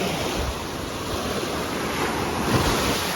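Surf washing over a beach being dredged, rolling loose shells around in a steady, close, broadband wash with gentle swells and some wind noise, no voices.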